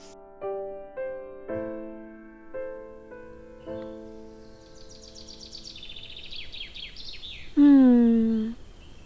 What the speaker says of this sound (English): So nice to wake up with the birds and the warm breeze.